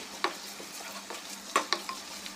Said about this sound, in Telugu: ఒక చిన్న ఆనియను, పచ్చిమిర్చి సన్నగా కట్ చేసుకొని ఇవన్నీ కూడా వేసుకొని మంచిగా ఫ్రై చేసుకోవాలి